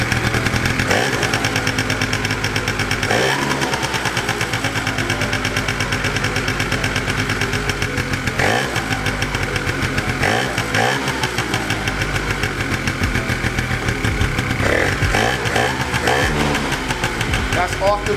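A Yamaha Razz scooter engine runs off the choke after a fuel-starved stall, a loud steady idle with uneven knocking and revving bursts throughout, close by with voices talking over it.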